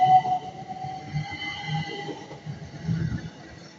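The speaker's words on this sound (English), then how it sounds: "Fast train passing through Didcot Parkway." Fast train speeding through Didcot Parkway station, a continuous rumbling rush with steady tonal whine, moderately loud and sustained throughout.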